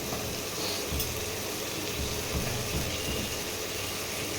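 Prawn curry (malaikari) being stirred and sautéed in a pan at home, a steady soft sizzle with faint scraping and clinking of the spoon, continuous and close, with no talk.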